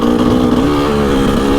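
A motorcycle engine revs hard and steady while climbing a hill, a loud, close, buzzing drone with a slight pitch wobble and no talk.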